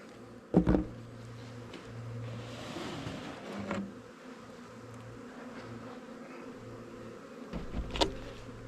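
Honey bees buzz around an open hive during frame pulling, a steady low hum with a few sharper passes close to the microphone and brief knocks of equipment.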